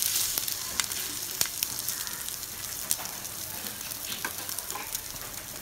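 Bread omelette topped with onion fries in a pan, a close steady sizzle dotted with sharp crackles and pops, with no talk.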